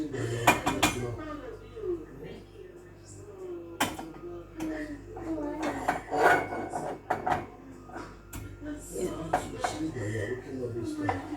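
Chopped onions being stirred in oil in a pot for a meat pie, with metal utensil scrapes and clatters against cookware, a steady background hum, and bursts of clinking through the stretch.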